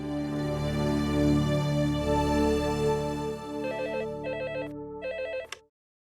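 A telephone rings with an electronic trilling tone, repeating in short bursts over a steady hum before cutting off abruptly.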